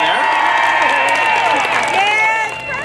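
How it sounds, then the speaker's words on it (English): Steady crowd applause with cheering at an outdoor senior center car show, sustained for a few seconds before tapering off, with a voice speaking over it. "Can I hear your applause, please,"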